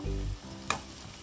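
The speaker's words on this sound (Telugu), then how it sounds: "కరివేపాకు వేసుకునేసి ఫ్రై చేసుకోవాలి." Curry leaves and green chillies dropped into hot oil for a Tamil Nadu style fish curry, giving a loud burst of sizzling with a sharp pop partway through, then a quieter steady frying hiss.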